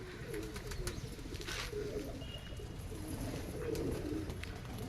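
Pigeons coo softly in a rooftop loft, a few low murmuring calls rising and falling under faint background noise.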